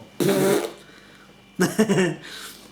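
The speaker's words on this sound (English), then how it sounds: "Have you ever seen me fart on YouTube?" Two bursts of flatulence from a man seated during a session IPA beer review, a long sputtering one followed after a pause by a choppier, multi-pulse one, close and fairly loud with no talk over them.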